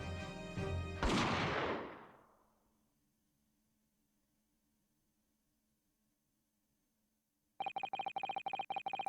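A gunshot in The Great Ace Attorney game hits as one loud, sharp blast with a long decaying tail into near silence, followed later by a rapid string of bright electronic beeps.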